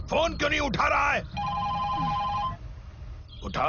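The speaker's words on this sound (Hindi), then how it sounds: "ये फोन क्यों नहीं उठा रहा है?" A telephone ringing in a 2020 South Indian film scene, a steady electronic ring tone heard for about a second between bursts of someone talking.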